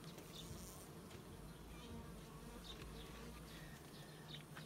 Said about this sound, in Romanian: Albinuțele sunt cumințele.